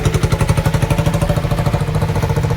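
A tractor engine idles close by with a steady, fast, pulsing chug and mechanical clatter, running loudly and evenly with no other sounds.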